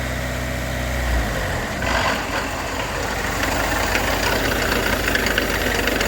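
A car engine revs in first gear, starting at a low idle and then climbing to a louder, rougher roar that holds steady, close by, with no speech.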